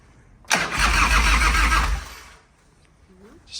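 A restored 1993 Harley-Davidson FXR-S motorcycle is cold-started: a sudden crank catches into a loud, rough roar for about two seconds, then dies away to quiet.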